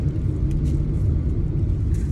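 Steady low engine and road rumble fills the cabin of a car heading to South Goa in the rain, a constant close drone with no voices.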